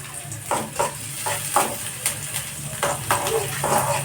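Vegetables with garlic frying in a pan and being stirred, with repeated scraping strokes of a spatula against the pan over a steady sizzle, fairly close and clear.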